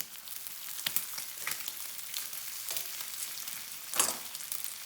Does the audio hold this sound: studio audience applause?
no